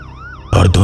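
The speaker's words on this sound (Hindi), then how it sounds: "पुलिस की गाड़ी सायरन बजाते हुए आती है" Police car siren wailing in a rising and falling tone, then a sudden loud burst of blaring siren and engine noise as the vehicle arrives close by.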